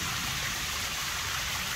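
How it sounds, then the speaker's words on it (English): A small waterfall on Victoria Peak in Hong Kong, reduced to a low trickle, gives off a steady, even wash of splashing water with no voices over it. "Right here is a waterfall on the peak."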